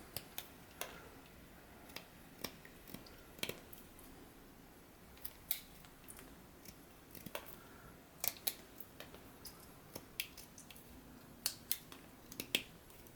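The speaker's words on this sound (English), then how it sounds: "these knots are definitely tough to cut through" A pocket knife whittles a knotty dogwood branch, giving sparse, sharp little cutting clicks and snaps at irregular intervals, close and quiet against a faint background, with no talk.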